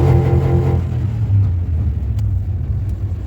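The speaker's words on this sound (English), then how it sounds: "So you're saying you want me to rev it a little bit?" A built Ford F-150 truck's engine roars with a brief rev that drops back into a deep, close rumbling idle, with no voices over it.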